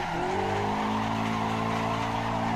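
A Eunos Roadster drifts in the Assetto Corsa racing game, with a loud, continuous tire squeal layered over a steady engine drone that holds throughout.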